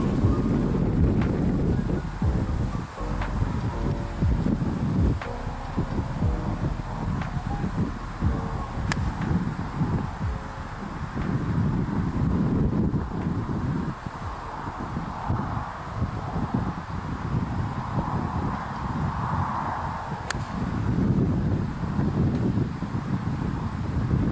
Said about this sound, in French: il y a du vent contre